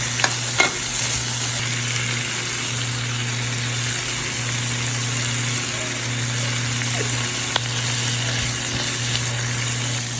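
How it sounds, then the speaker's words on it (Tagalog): Corn kernels sautéing in plenty of butter in a pan, a steady close sizzle with occasional stirring scrapes and a low hum running underneath throughout. "igisa ko lang sa butter itong corn para may lasa na siya"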